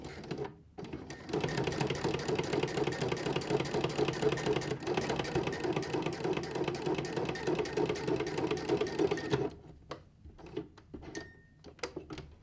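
Sewing machine fitted with a ruffler foot gathering fabric at stitch length 2, running in a steady fast rhythmic chatter for about eight seconds, then stopping into scattered clicks and handling noises.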